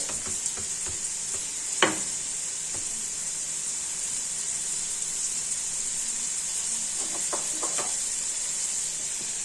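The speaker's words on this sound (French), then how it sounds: "On va mettre les légumes qui prennent la cuisson en premier." Turnip and carrot cook in a soup pot with a steady close sizzle and hiss, broken by a few light clicks and knocks of stirring. No one speaks.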